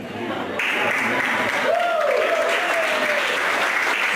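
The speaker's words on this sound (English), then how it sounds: "too many of you are applauding" A comedy audience breaks into steady applause, a continuous wash of many hands clapping, while a voice calls out briefly over it partway through.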